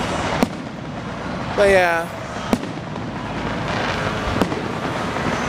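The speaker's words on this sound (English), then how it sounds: "You guys don't know how to be careful with fireworks." Fireworks going off outdoors at a distance during a summer evening, a few sharp isolated pops and cracks over a steady noisy background, with a short whistling burst and a person speaking briefly.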